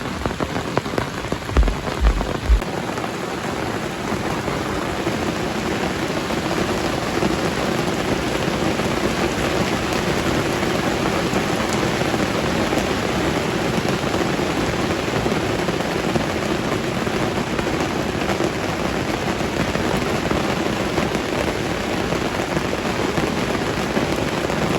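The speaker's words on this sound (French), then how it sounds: "Ça pleut les amis." Steady, heavy rain pours down throughout, a dense continuous hiss of drops hitting surfaces, with a few louder thumps at the very start.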